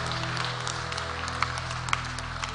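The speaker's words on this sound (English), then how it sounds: "Let's clap our hands to the Lord." A church congregation claps hands in praise during a worship service, a diffuse wash of applause over a sustained low musical drone, moderately loud and steady.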